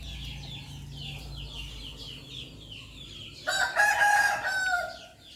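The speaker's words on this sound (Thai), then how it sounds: "ไก่เขาขันดีจังเลย" Outside near a fish grill, a single rooster crows loudly once toward the end, following a stretch of quieter ambient chirps and a low background hum.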